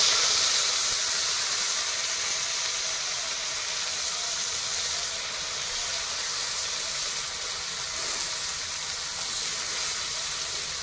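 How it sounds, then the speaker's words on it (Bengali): Cumin seeds and a bay leaf sizzle in hot oil as a steady, close hiss that runs unbroken and fairly loud throughout, with no talking. "জিরা তেজপাতা দিয়ে দিয়েছি এবার মশলাটা দিয়ে দিচ্ছি"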